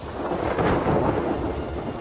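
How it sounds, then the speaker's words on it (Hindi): Heavy rainstorm with rolling thunder in Kakadu, a steady broadband roar of rain under a deep rumble that swells midway and stays loud and close throughout. "बरसात आ चुकी है।"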